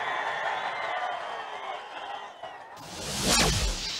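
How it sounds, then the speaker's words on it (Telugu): A burst of clapping and cheering swells up from the crowd at a political rally for Chandrababu, rising suddenly after a stretch of speech. "గట్టిగా చప్పట్లు కూడా చెప్పండి"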